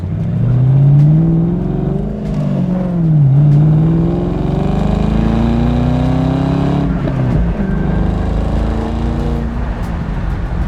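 A 2014 Shelby GT500's supercharged 5.8-liter V8 revs up and down loudly at close range, rising and falling in pitch before settling into a steady, throaty drone.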